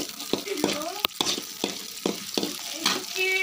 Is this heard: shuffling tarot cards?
no